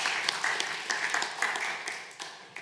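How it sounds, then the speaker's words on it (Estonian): Applause from a church congregation, a dense, steady patter of many hands clapping together throughout, moderately loud and sustained with no clear voices over it. "Teeme talle üks Jumal õnnistagu aplaus ka."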